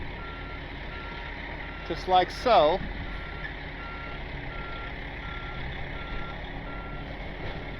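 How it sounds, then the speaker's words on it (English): A dump truck with a trailer slowly backs up, its steady reversing beeps repeating throughout over a low engine idle, with a brief voice and a short rumbling clunk partway through. "The truck backs into the trailer,"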